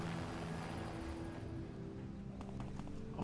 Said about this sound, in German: Da kommt der Helikopter.